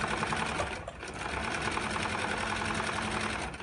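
A basic sewing machine runs an interlock stitch, a close, steady mechanical whir with a slight dip just before one second.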